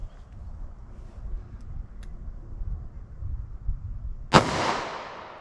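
A short-barrel 9mm handgun fires a single sharp, loud shot through a chronograph after several seconds of quiet outdoor background, and the report rings away briefly.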